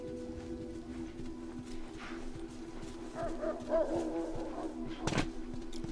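Dogs bark and yip in the suburbs of The Last of Us, a few faint, distant barks followed by a sharper, closer one near the end.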